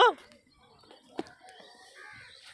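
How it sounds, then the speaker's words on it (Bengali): Crows caw briefly and flap off outdoors near a riverside area, a short burst of calls at the start followed by faint scattered bird sounds and quiet background. "এই কাকগুলো বেশ আমাকে দেখে উড়ে পালিয়ে গেল"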